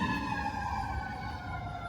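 An ambulance or fire truck siren passes on a public street during an outdoor walk, its steady wailing tones loud and sustained throughout, with traffic rumble underneath.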